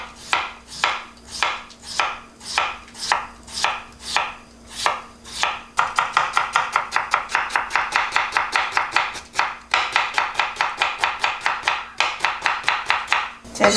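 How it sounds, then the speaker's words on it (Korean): A knife cuts a medium potato into thin julienne strips on a board, with crisp regular chops that are slower at first and then speed into a rapid, even rhythm, heard close and loud with no voices. "조금 가늘게 채를 썰어볼게요."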